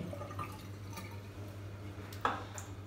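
Water spat into a basin after brushing teeth, heard as faint drips and small splashes over a low hum, with one sharper splash near the end.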